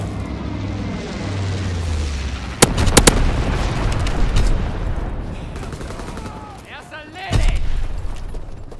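Incendiary bomb blasts in the World War II shooter game Call of Duty: WWII, with heavy booming explosions and sharp bursts of gunfire over a continuous rumbling battle bed; game voices speak throughout.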